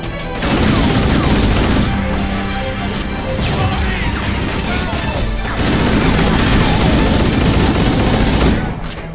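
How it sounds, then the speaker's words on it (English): Rapid grenade explosions and weapon fire in the video game Halo: Combat Evolved, loud dense crashing blasts piling up in a sustained barrage with a short lull in the middle. "There's just so many grenades absolutely everywhere."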